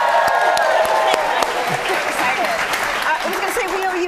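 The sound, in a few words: studio audience clapping and applauding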